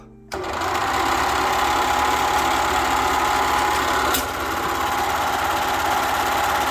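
A repaired sewing machine, switched on at the edge of a table, runs steadily on its own with a continuous close whirring drone after a brief start, no voices over it.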